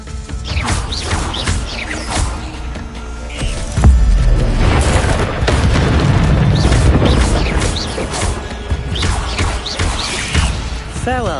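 Expelliarmus spell cast during combat in the video game Hogwarts Legacy, with booming impacts, crashing thuds and magical whooshes layered over a dense, loud battle din.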